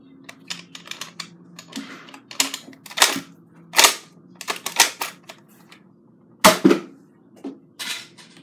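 A modded Nerf Kronos blaster fires and is primed in a string of sharp, close clicks and snaps, irregularly spaced with a few louder cracks standing out, no voices.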